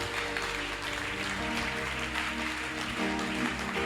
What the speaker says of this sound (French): Est-ce qu'on peut acclamer Jésus?